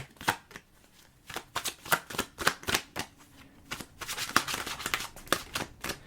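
Tarot cards being shuffled in quick riffling bursts, a steady run of crisp flicks and snaps up close with short pauses between.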